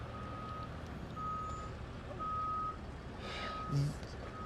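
A school bus maneuvering outside Rigby Middle School gives a few intermittent reversing beeps. The steady tones sound from some distance over outdoor ambience, with a brief thump near the end.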